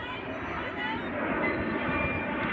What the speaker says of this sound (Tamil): மறுபடியும் இன்னொரு இன்னொரு ஃப்ளைட்டு